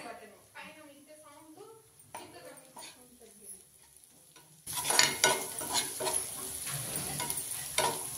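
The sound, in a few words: stirring turmeric in a hot pan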